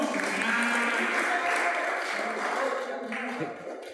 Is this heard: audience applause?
yes